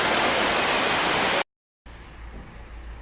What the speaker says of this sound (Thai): มีน้ำตกทำให้สดชื่นมาก